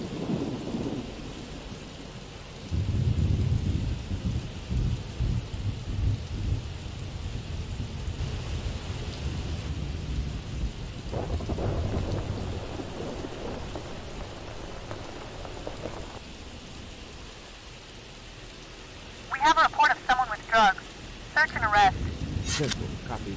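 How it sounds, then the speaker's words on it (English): Rain and rolling thunder from the video game Enforcer: Last District fill the scene with a steady wash of rainfall and low rumbling surges, while a voice breaks in briefly near the end. "Oh, and of course, it's starting to rain,"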